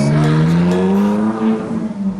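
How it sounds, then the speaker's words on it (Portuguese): A Ferrari sports car passes close by on a quiet suburban street, its engine note a loud, steady tone that rises slightly then eases as it moves on, with no talk over it. "tem uma Ferrari aqui no meio do nada, velho"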